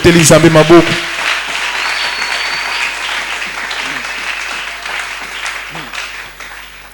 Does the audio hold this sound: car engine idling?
no